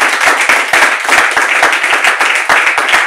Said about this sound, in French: on va s'applaudir pour tout ce que vous avez dit